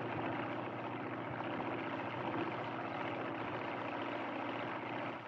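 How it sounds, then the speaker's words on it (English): An airplane flies overhead in a 1962 film scene, heard as a steady, continuous engine drone that holds an even loudness throughout, with no talking. "Look, that airplane up there."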